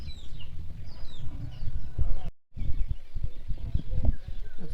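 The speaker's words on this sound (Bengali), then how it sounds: "আচ্ছা দেখুন এখানে কতগুলো মুরগি আছে" Chickens cluck in a hotel garden near the Lataguri forest, a scatter of short, fairly close hen calls repeating over low background noise, with a person talking in between.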